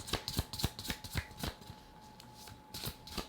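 Tarot cards are shuffled by hand in a run of crisp, rapid riffling bursts with short pauses between them, close up and alone without any talk.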